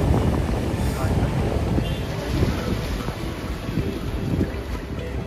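Sea waves washing at night along Marine Lines in Mumbai, a continuous soft surf roar mixed with gusty wind buffeting the microphone, with people talking over it.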